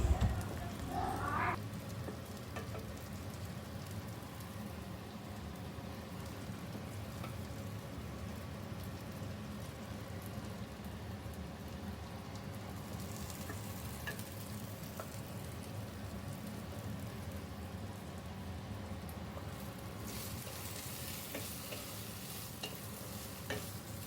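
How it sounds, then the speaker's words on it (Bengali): Onion and chili frying in a pan, giving a continuous close sizzle with stirring and scraping throughout. A brief clatter comes near the start. "আমি সাইড করে পেঁয়াজ লঙ্কাটা ভেজে নিচ্ছি"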